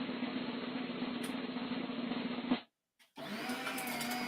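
A paper shredder chops papers with a loud, steady motor grind for about two and a half seconds, goes quiet briefly, then starts grinding again.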